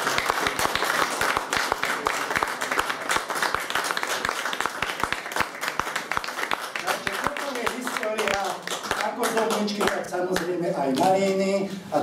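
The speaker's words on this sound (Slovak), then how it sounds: "Veľký potlesk pre pani Mázorovú." Audience clapping for a guest of honour at a Slovak folklore celebration, steady dense applause with sharp individual claps running throughout, while music with voices builds beneath it toward the end.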